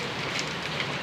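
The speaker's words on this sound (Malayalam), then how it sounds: "നല്ല മഴ" Heavy rain pours down outside a home kitchen, a dense, even hiss of falling drops that fills the short moment without any talk.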